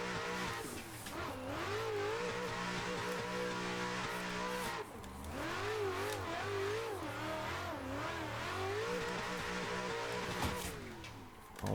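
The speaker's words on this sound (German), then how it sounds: "ich fahre dann einfach mal die erste Runde und zeige euch, wie der Track gedriftet werden soll." Race car engine revving hard through a drifting lap in the Assetto Corsa racing game on the Sturup Raceway, wavering engine pitch with tire squeal and skids, loud and continuous for the whole stretch.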